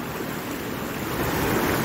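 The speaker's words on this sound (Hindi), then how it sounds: "ये पानी देखो फ्रेंड्स कितना बहाव से निकल रहा है यहाँ पे" Strongly flowing river water rushing past near Purkul village, a steady broadband wash close by with no break, loud and even throughout.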